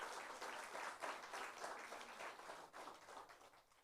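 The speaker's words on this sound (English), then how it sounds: "I think we should give her another round of applause." Faint audience applause at an opening ceremony for a scientific meeting in Grenada, following a musical performance. Steady, distant-sounding clapping runs throughout and tapers slightly toward the end.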